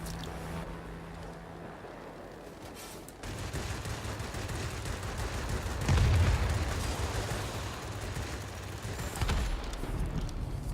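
Aircraft guns fire in sustained, dense bursts over a steady engine drone during a dogfight in World of Warplanes, flown in an I-17 fighter, with the gunfire swelling louder partway through.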